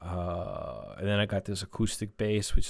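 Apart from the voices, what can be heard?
None of the usual background noises is heard.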